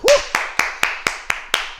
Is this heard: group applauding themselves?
yes